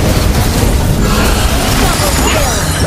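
Turret being destroyed in the Mobile Legends: Bang Bang video game, a loud sustained booming explosion layered with game effects and announcer-style voices throughout.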